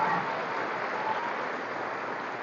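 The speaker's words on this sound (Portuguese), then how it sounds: "Vamos aplaudir Santa Maria Madalena." A church congregation at an Easter Sunday Mass applauds in a dense, even burst of clapping that holds steady, fairly loud and with no voices over it.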